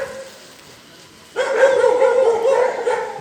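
Street dogs on an unlit road bark sharply from about a second and a half in, a loud near burst of overlapping yaps after a quiet start.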